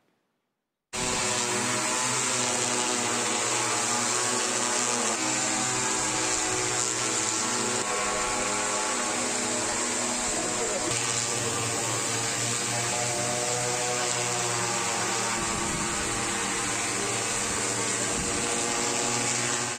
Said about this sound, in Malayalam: കിസാൻ ഡ്രോൺ വഴിയാണ് വളപ്രയോഗം നടത്തിയത്.